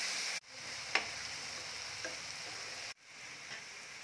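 Onion paste frying with salt in a pan for a fish curry, a quiet steady sizzle with a couple of faint spoon taps and two brief cuts in the sound.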